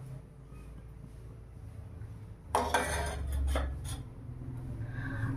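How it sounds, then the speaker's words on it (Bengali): Bay leaf and dried chilli hit hot mustard oil in a wok, setting off a sudden loud burst of crackling sizzle that settles into a softer fizz, with a faint metallic clink from the pan. "কড়াইয়ের মধ্যে দিয়ে দেব সর্ষের তেল, এবারে দেব ফোড়ন, তেজপাতা আর শুকনো লঙ্কা।"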